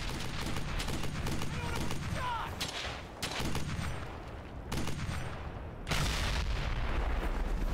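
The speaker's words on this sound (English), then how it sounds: "Fire at the Krauts!" Gunfire in the video game Brothers in Arms: Hell's Highway crackles in repeated bursts and volleys, fairly quiet overall, with sharp loud shots near the end.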